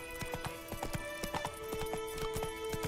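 Horse hooves clip-clop in The Witcher 3, a quick, even stream of sharp hoofbeats close by over a low steady background tone.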